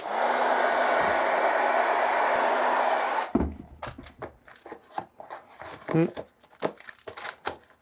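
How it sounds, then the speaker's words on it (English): A heat gun roars steadily for about three seconds and stops. Loud, close crinkling and crumpling of aluminium foil follows in irregular bursts as it is pressed into craft foam to texture it. "I'm going to use some foil, make a loud racket"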